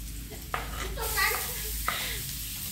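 Garlic, ginger and onion sizzle in a pan under a steady hiss, with a couple of sharp clatters and a voice speaking briefly in the background.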